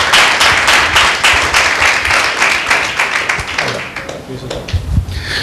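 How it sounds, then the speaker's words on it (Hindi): Loud, dense applause from a church congregation during a Sunday meeting, steady for several seconds before thinning into scattered claps as a voice begins speaking. "एक जोरदार ताली देते हैं परमेश्वर की महिमा के लिए"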